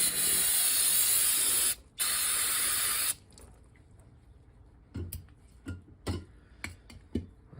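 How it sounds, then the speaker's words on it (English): Two long, loud hissing bursts of an aerosol spray can, close up, during a GM Hydroboost brake booster rebuild, followed by faint clicks and light handling noises. "Another spray."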